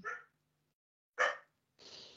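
A female dog gives two short, sharp barks about a second apart, close and isolated in a quiet room, followed by a soft breathy noise.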